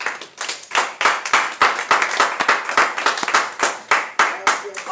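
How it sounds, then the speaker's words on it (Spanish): Congregation clapping in rhythm at a Spanish-language church service in Garland, Texas, sharp regular claps in a steady beat, loud and close, running throughout. "Denle un aplauso al Señor."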